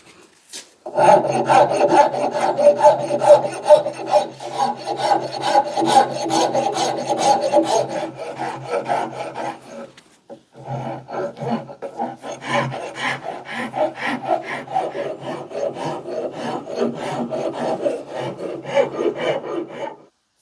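A rasp shapes the palm swell of a wooden axe handle, with steady, close rasping strokes that run continuously, pause briefly near the middle, then resume at a slightly lower level.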